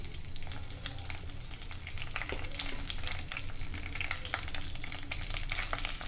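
Cinnamon, cloves and cardamom fry in hot oil in a pan, giving a steady close sizzle with light crackles and occasional stirring scrapes throughout.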